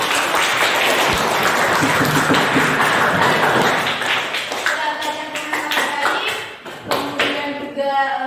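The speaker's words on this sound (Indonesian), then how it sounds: "Tepuk tangan buat semuanya." A group applauds with dense, steady clapping that gradually thins out as voices begin to speak over it.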